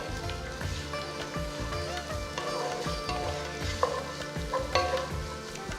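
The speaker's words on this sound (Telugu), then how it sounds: "నేను దీంట్లో నాలుగు పచ్చిమిరపకాయలు ఇట్లా సెంటర్లో స్లిట్ చేసి వేస్తున్నాను" Slit green chillies sizzle and fry in a pot for bagara rice, a steady close crackle with soft stirring scrapes and no talking.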